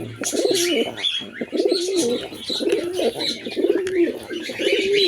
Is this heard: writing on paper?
no